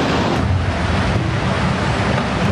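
Tsunami floodwater from Japan's great earthquake torrents through buildings, already over 25 feet high at the third floor, a loud continuous roar of rushing water with no voices.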